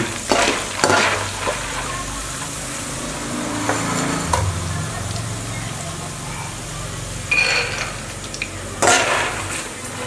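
Peanuts fry in hot oil with a steady close sizzle, broken by a few clinks and scrapes of a utensil against the pan.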